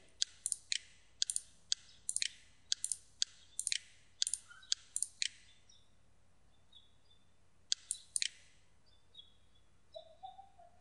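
Computer mouse clicks, crisp and close, come in quick double taps and small clusters at an even pace, with a faint chirp-like sound near the end.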